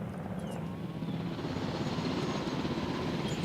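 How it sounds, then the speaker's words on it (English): Ranger helicopter in Jurassic World Evolution, a continuous low rotor drone and whir held steady throughout at moderate level, with no voices over it. "And our helicopter sucks."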